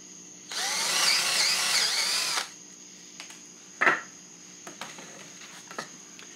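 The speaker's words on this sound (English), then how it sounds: "The more holes I drill, the more time you get to watch." A power drill whirs loudly for about two seconds, then stops, followed by a few quiet clicks and a short thump.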